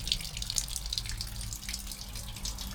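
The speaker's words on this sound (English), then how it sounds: "Little stream running through the toilet block here." A small stream runs through a toilet block, giving a constant close trickle and splash of flowing water with occasional brighter drips over a low background hum.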